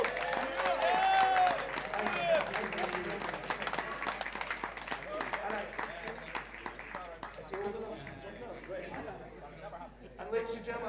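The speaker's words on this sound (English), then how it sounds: "a second round of applause because he's qualified for intermediate level" Audience at a powerlifting meet applauds after a lifter's total is announced, steady clapping with some chatter and laughter, near and moderately loud, swelling again toward the end.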